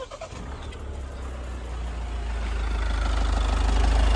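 A 2023 Mahindra Scorpio Classic S5 engine runs at a low, smooth idle, a steady deep rumble that grows gradually louder over a few seconds with faint background chirps.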